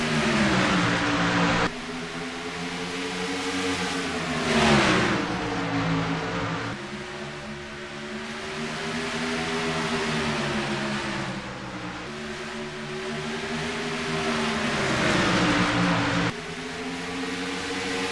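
Stock race car engines roar at Bristol's night race in a racing video game, a dense, steady wall of loud engine drone whose pitch rises and falls as cars pass, with no voices.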